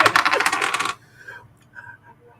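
Dice clatter across a table in a quick, bright rattling burst lasting about a second, followed by a few faint settling clicks and near silence.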